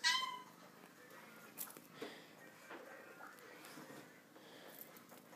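A cat meows softly a few times, faint and close, with a higher cry at the very start and quiet room noise between.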